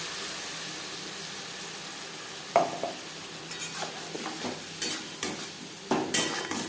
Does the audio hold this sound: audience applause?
no